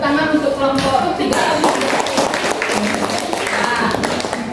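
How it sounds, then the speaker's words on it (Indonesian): Classroom applause for a student group during a teaching session, a steady wash of claps lasting several seconds with voices mixed in. "Berikan tepuk tangan untuk kelompok 3"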